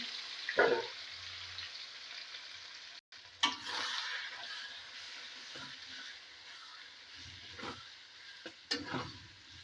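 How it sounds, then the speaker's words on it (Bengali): Goat liver fries in a pan with whole cardamom and cinnamon, giving a soft, uneven sizzle and intermittent stirring clatter that drops out briefly midway before resuming. "এবার আমি খাসির মেটেটা দিয়ে দিলাম"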